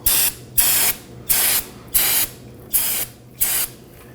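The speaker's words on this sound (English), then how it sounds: "Going to clean our hub using some brake parts cleaner" Brake parts cleaner hisses onto the front wheel hub of a 2015-2023 Nissan Maxima in six sharp, evenly spaced aerosol bursts, each lasting about a third of a second.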